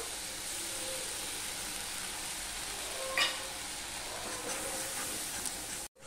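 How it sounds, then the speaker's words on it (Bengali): Spices and ginger frying in a pan for papaya dhoka, a steady low sizzle and hiss running throughout with one brief scrape of a spatula midway, close and without talk. "মশলাটা আমি ভালোভাবে কষিয়ে, দারুণ গন্ধ হয়েছে এই ফোড়নগুলো দেওয়ার জন্য।"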